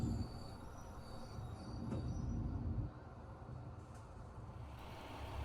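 A train rolls along the track approaching Tsubojiri Station, a steady low rumble of wheels with faint squeals, heard from on board at moderate volume and without talk.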